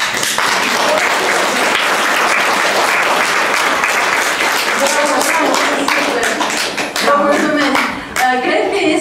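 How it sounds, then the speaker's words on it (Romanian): Audience applauding at an art exhibition opening at Casa Schiller, dense sustained clapping from a room full of people, loud and close, thinning slightly toward the end. "La final să aplaudăm gazdele și pe creatoare care primește afecțiunea noastră"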